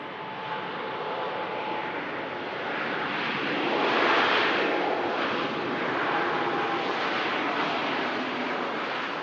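An Air Transat airliner just after touchdown, arriving from Toronto, rolling out with a broad, distant roar of engines and rushing air that swells midway and then holds steady.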